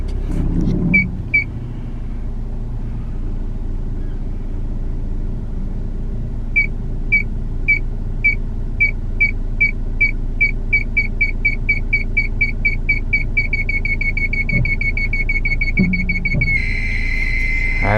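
Short high beeps from a reverse parking sensor repeat over a car's low engine hum while backing up, speeding up until they merge into one continuous solid tone near the end.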